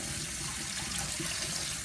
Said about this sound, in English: Let's go ahead and start rinsing the tomatoes off.